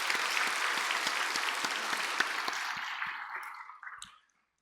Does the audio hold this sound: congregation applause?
yes